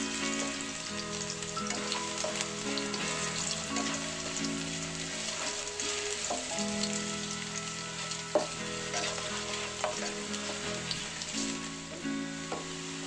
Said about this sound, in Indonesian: yang pertama kita masukkan adalah jahe dan bawang putihnya. Aduk dan gongso-gongso ya, sampai jahe dan bawang putihnya harum